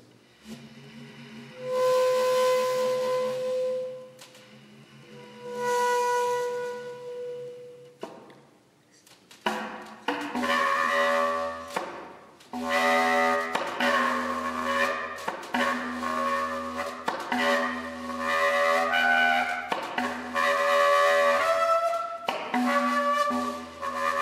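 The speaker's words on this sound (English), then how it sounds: "Also hearing in there are what's called multiphonics, where Jeff is using his air and his embouch" A wind instrument sounds sustained tones, then shifts into dense, buzzing multiphonic chords with several pitches at once, played close and alone.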